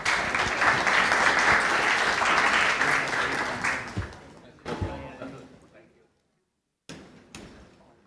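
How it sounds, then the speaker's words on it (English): Audience applause for a panel at a policy forum: a loud burst of crowd clapping that fades after about four seconds, followed by a few scattered claps, thumps and a brief silence. "A round of applause, please, for our panel."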